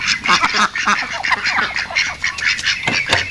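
Ducks and geese in a village pen beside a tub of feed grain call loudly and close by. Overlapping quacks and honks come in quick, busy bursts with no pause, and no one speaks.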